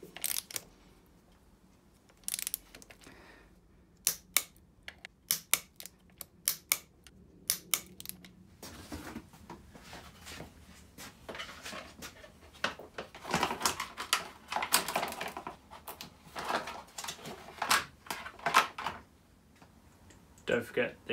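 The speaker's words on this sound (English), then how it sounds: "Then come up and torque these back up." A torque wrench tightening the brake disc bolts on a KTM Duke during a Galfer Wave disc upgrade sends out sharp, close clicks in scattered bursts, then denser clattering handling noise.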